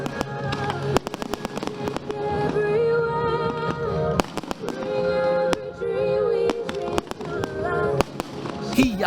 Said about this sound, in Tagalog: Una na nga nagpasiklab dito ang Royal Fireworks na galing pa sa Netherlands.